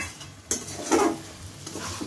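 Mutton is stirred and fried in a pan, giving a soft sizzle under scraping, with a couple of sharper utensil knocks against the pan at close range.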